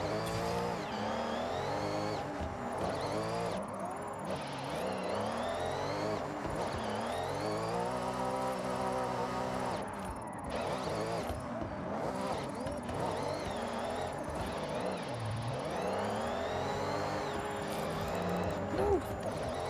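In Forza Horizon, a Toyota Supra with a 2JZ engine slides around with sweeping engine revs and squealing tires, rising and falling repeatedly while a person talks over the game sound.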